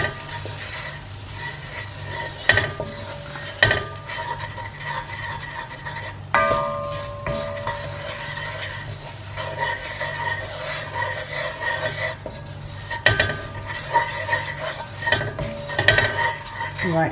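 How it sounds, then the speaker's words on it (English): Curried mussels are stirred in a pan with a utensil, giving repeated sharp scrapes and clinks against the metal over a steady low sizzle, close and fairly loud. "Just going to give that a little mix."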